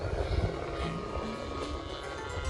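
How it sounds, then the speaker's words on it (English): A Great Planes Giant Supersportster RC plane with a DLE 30 gas engine at half throttle makes a low flyby, a steady buzzing engine drone that swells and fades slightly, with no voices. "We'll do a nice low flyby here. It's just super stable. That's a half throttle, so the DLE 30 powers it plenty"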